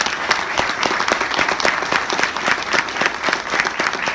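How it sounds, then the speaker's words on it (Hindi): A crowd at an award event applauds loudly and steadily, dense clapping filling the whole stretch without pause. "उनके लिए एक जोरदार ताली हो जाए।"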